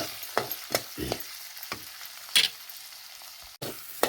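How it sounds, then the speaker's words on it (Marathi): Fried fish pieces dusted with chili powder, salt and a little turmeric get stirred in a pan for a lima bean curry, with a low sizzle under sharp, spaced scrapes and clinks of the spoon, close up and without speech. "माशाचा तुकडा परतून झाला आहे त्याच्यावर मी तिखट मीठ आणि थोडीशी हळद टाकलेली आहे आता ते आपण चांगलं परतून घेऊया"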